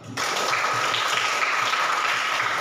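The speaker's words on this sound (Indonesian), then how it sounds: "tepuk tangan untuk kita semua" Applause from students in a classroom during a teacher-training lesson, a steady wash of clapping that starts abruptly and holds at an even, fairly loud level throughout.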